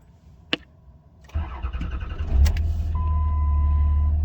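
A Dodge Ram Cummins diesel, just serviced with a cleaned air cleaner and new fuel filter and pressure relief valve, cranks and fires, then settles into a steady, loud, low idle rumble with a faint whine after an early click.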